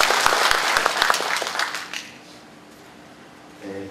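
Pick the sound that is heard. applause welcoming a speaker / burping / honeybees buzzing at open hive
applause welcoming a speaker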